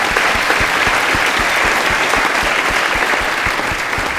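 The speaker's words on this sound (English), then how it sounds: "can you give them a round of applause?" A conference audience gives the discussion panel steady, even applause, dense rapid clapping filling the room for several seconds with no voices over it.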